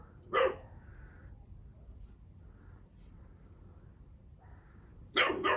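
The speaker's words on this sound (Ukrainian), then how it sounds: "Це, друзі, перший раз він гавкає." A young dog barks for the first time, two short sharp barks at the start and end with quiet whimpering tones between, fairly close indoors.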